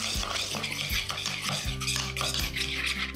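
Steady stirring and scraping in a Saladmaster pot over medium heat, a spoon mashing soft tofu with a low continuous hum underneath, close and moderately loud.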